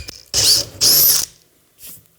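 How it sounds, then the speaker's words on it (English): A power drill bores a hole through a polycarbonate sheet in two loud, close bursts of whining, grinding cutting, separated by a brief pause, then a short softer rev at the end. "Make sure you've got a good hold of the drill."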